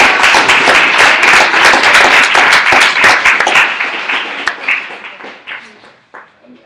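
A room full of people applauds loudly for a woman invited up to speak at a gathering, dense steady clapping for several seconds before it thins out into scattered claps and dies away.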